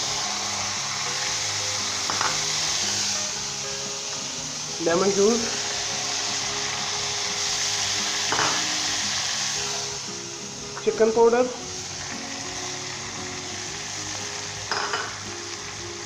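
Vegetable macaroni with capsicum and carrots stir-frying in a pan, a loud continuous hiss of frying with periodic scraping stirs, while a person talks over it.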